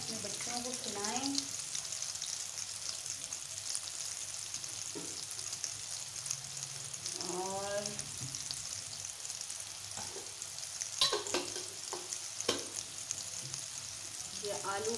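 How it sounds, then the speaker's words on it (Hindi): Potatoes frying in a pan for a mixed vegetable dish, a constant soft hiss of sizzling oil with occasional stirring scrapes, while a voice talks faintly in the background. "ये आलू फ्राई हो रहे हैं"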